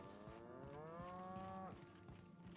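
Cattle low in a drawn-out moo inside The Outer Worlds video game, a single steady call with a falling end, faint and alone against a quiet background.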